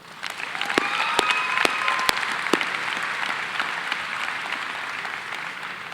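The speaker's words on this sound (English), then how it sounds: "Round of applause for them as well." Graduation audience at a high school ceremony applauding the student council, a steady, dense wash of clapping across a large crowd that holds for the whole stretch and eases off slightly toward the end.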